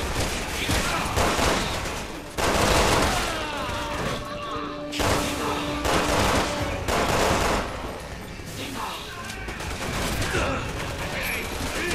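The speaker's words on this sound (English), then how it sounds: "I don't know who's shooting at where." Heavy gunfire fills a Resident Evil 6 firefight, with dense bursts of automatic shots and blasts layered over game noise, a loud continuous barrage with brief lulls and someone talking at times.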